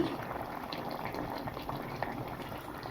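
A bhola fish curry bubbles in a pan, a soft, continuous simmering burble with small pops, steady and fairly quiet throughout, no talking.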